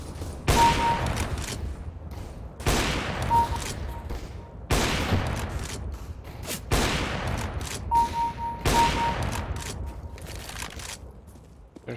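Gunfire in the video game CS:GO, several loud bursts of shots at a steady, repeating pace, each dense volley separated by short gaps.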